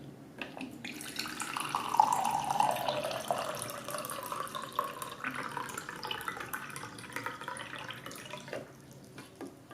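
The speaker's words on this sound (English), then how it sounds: "Push the button to dispense water." Water trickles and drips from the spout of a ZeroWater 23-cup filter dispenser after the button is pressed, a faint, thin, uneven flow close by with no talking.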